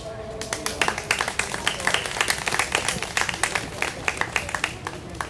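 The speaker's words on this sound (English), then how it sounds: "a big hand clap" Audience applause for a presentation at the B Free Awards 2019 ceremony: a dense, steady patter of many hands clapping at moderate distance, lasting throughout with some voices mixed in.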